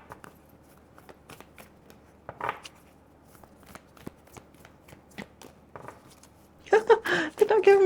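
Tarot cards shuffled by hand in a quiet room, a string of soft riffles and taps, close and fairly faint, ending in a louder burst of shuffling as someone talks.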